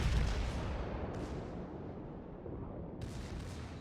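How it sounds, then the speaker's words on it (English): Gneisenau's secondary battery guns fire in World of Warships naval combat, a dense, rumbling barrage of distant booms rolling continuously at low volume, with sharper reports breaking through twice. "So secondary battery is opening up"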